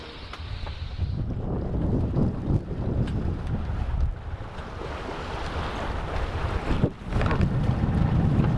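A sailboat under way off Mexico rushes through the water, with steady wave wash and loud wind buffeting the microphone throughout, briefly dipping near the end.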